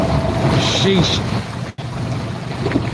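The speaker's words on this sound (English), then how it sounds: "That wind's crazy." Strong wind roars across the microphone on the open ocean while fishing from a boat, a loud constant gusting with a brief cut, voices speaking over it.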